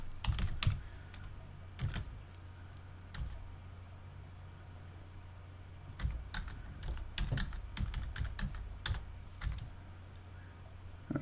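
Fingers tapping out a command on a computer keyboard while setting up an SSH tunnel, heard as scattered bursts of close, crisp key clicks separated by short pauses, with no talking.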